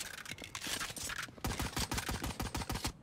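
Odin machine gun firing in Valorant, rapid sustained bursts of loud close automatic shots with a short pause between volleys.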